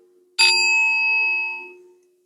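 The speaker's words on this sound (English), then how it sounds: "Let me ring my bell." A single bell is struck once, giving a bright, clear ding that rings out close and alone, then decays smoothly over about a second and a half.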